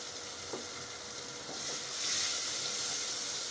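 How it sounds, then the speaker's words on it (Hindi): Macaroni masala and chopped green chillies fry in a hot pan with a steady, close sizzle and hiss that swells slightly midway, with a few faint stirring scrapes and no speech. "इन सब चीज़ों को अच्छी तरह भून लेना है"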